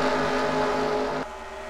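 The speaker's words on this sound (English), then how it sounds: "You can hear Carter really have to breathe the throttle." A race car engine in a stock car racing video game holds a steady droning throttle, then drops off sharply near the end as the driver eases off, with no talk over it.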